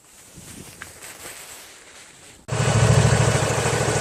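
A Craftsman GT6000 lawn tractor's 16 HP Vanguard engine idles quietly, then abruptly roars louder and keeps running steadily at a higher, rough rumble, close by.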